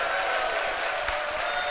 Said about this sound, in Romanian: Haideți să-l aplaudăm, să ne mai certăm.